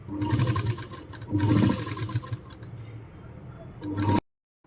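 A sewing machine stitches two pieces of a Rajputi kanchli, laid one on top of the other, in close loud bursts with short pauses between runs, then stops abruptly near the end.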